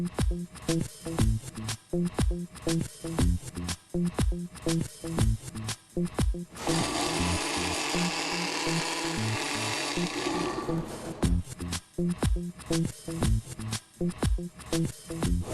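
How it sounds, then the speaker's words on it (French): A mixer blends blackcurrant mirror cake mixture in one loud, steady whir lasting about four seconds, set between stretches of choppy, rhythmic background sound. "La prochaine opération consiste à mixer le tout."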